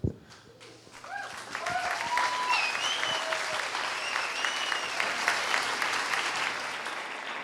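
Audience applause at a talk on nutrition and the body, starting with a sharp burst and swelling into sustained, steady clapping from a sizable crowd, with a few whistle-like tones over it and no talking.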